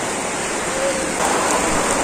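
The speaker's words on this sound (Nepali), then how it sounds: "कत्रो ठुलो पानी पर्यो यार" Heavy rain pours down at a hillside rainbow trout farm, a steady broadband hiss that swells louder partway through, with no talk over it.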